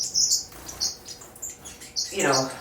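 Twin-spot and lavender finches in an indoor aviary, a run of short, high, bright chirps and tweets scattered irregularly, fairly close, with a brief burst of fuller calls near the end.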